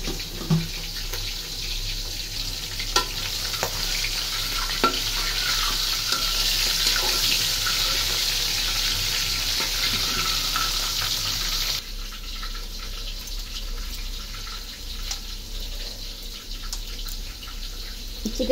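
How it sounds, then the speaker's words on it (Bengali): Chicken fries in a pan with a continuous hissing sizzle, fairly close and steady, interrupted by occasional clinks of stirring; the hiss drops noticeably quieter partway through, and there is no talk. "চিকেনটা ভাজা হচ্ছে"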